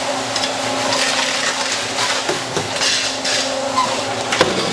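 Concrete being mixed by hand for a floor drain screed in a mushroom farm fruiting room, a steady scraping and stirring churn with irregular knocks, fairly close, with people talking nearby.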